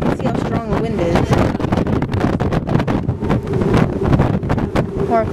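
Strong wind buffets the microphone on the deck of a cruise ship, a loud gusty roar that rises and falls while a person talks over it.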